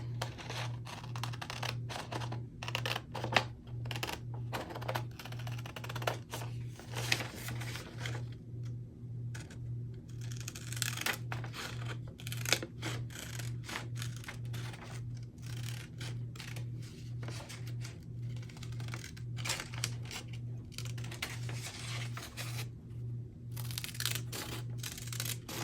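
Irregular snipping and rustling as bandage scissors cut through a sheet during a crafting session, with repeated small clicks and scraping over a steady low hum, close and fairly quiet.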